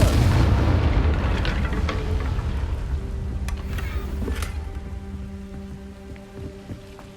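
A fire spell explosion in the video game Hogwarts Legacy, a loud deep blast at the start that rumbles and slowly fades, with a few sharp crackles and a low hum lingering after it.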